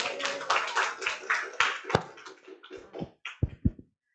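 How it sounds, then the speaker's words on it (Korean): Applause from an audience at a business group meeting, a dense patter of claps that thins out into a few scattered, louder individual claps before stopping. "큰 박수로 부탁드립니다"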